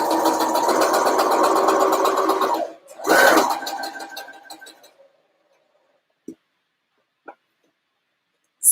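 A sewing machine stitches elastic into a skirt fabric with an invisible stitch, a steady near mechanical whirr running for about three seconds, a brief second burst, then quiet with a few faint clicks.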